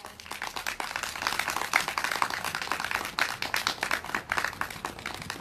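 An audience applauds at a candlelight rally as a guest speaker is welcomed, with a crowd of hands clapping in a steady, moderately distant patter that carries on for several seconds with no voices over it.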